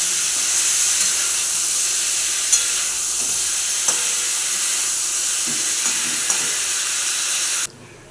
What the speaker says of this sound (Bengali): পটল ও টমেটো ফ্রাই ভাজা হয়ে এসছে আমার